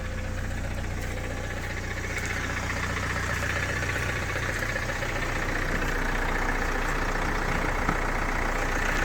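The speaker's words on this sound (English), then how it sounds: "turn on the engine and I'll show you the engine bay" A 2016 Opel Insignia's 1.6 CDTI 136 hp diesel engine idling, heard close with a steady, loud clattering rumble and constant low throb that holds unchanged throughout.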